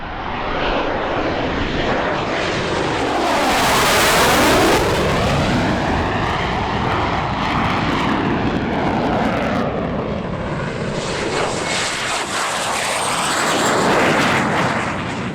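A MiG-29 jet leads a display team with Alpha Jet A and L-39C Albatross aircraft at the EAA AirVenture Oshkosh 2023 airshow, filling the air with a loud, sustained jet roar that swells and sweeps in pitch as they pass overhead.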